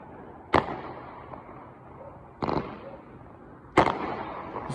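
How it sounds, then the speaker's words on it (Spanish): Three sharp firework rocket bangs burst at irregular intervals, each a crisp crackling pop against a quiet background hum. "Son cohetes."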